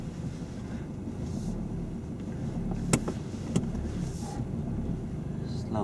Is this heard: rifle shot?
no